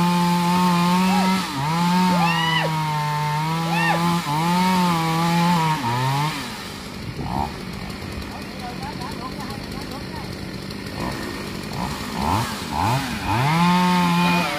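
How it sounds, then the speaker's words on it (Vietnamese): A chainsaw cuts into a tree during felling work, its motor buzzing and revving in repeated rising and falling pulls, loud and close, with people talking over it in the second half. "Đợi mở miệng rồi hai người cưa một lượt."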